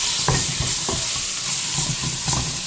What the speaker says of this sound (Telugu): తిప్పుదాం.